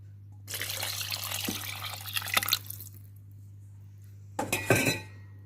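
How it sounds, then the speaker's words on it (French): Water, 550 grams of it, poured into the bowl of a Compact Cook Pro multicooker while making chorizo and mushroom risotto, a steady splashing stream lasting a few seconds, then a brief clatter of a utensil or the bowl. "Je vais rajouter mes 550 grammes d'eau."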